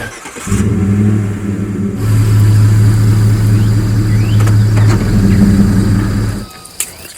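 A truck engine idles and then revs up as the truck creeps forward, a loud, close, steady drone that surges twice before cutting off near the end.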